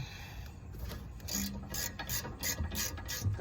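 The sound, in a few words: ratchet unscrewing the last brake bolt on a BMW E90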